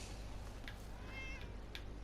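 Several short, faint cat meows over a low, steady background hum, heard during Fallout 4 survival-mode gameplay.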